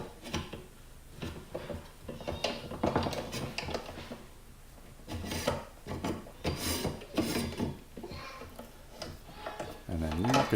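A drill press table slides and scrapes onto its metal column during assembly, producing irregular bursts of rubbing, grinding and clunking at close range, with quiet pauses between movements.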